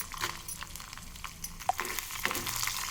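Dried red chillies fry in hot oil with coriander seeds, cumin and urad dal, a soft close sizzle broken by a few sharp clinks of a spoon against the pan, with no talking.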